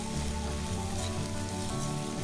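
Onion frying in oil in a pan as cumin powder is added, a steady dense sizzle with crackling, close and continuous throughout, no voices.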